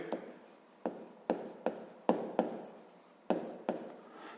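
Pen writing numbers on paper during a fifth-grade math lesson: a close, quiet series of about seven short scratchy strokes in an uneven rhythm, each one trailing off, with no talk.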